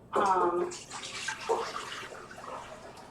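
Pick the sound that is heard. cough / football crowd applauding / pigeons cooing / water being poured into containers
water being poured into containers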